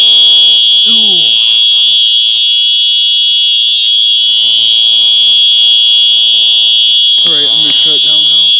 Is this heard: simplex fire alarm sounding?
yes